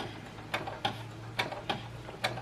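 A sewing machine slowly stitches a face mask of Hydroknit fabric with a HEPA filter. Sharp, uneven ticks sound close over a low, steady motor hum, with no speech.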